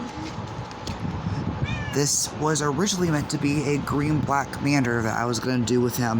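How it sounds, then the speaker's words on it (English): A cat meows repeatedly under steady talk from a man describing Magic: The Gathering cards, its harmonic calls rising and falling across most of the span. "Sorry about the cat."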